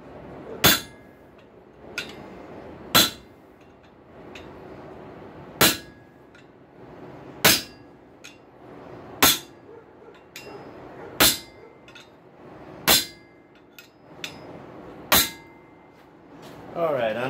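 A hammer strikes a steel chisel to deepen a scored line in a rail spike on an anvil: about nine sharp metallic clinks spaced evenly roughly two seconds apart, loud and close over a quiet background.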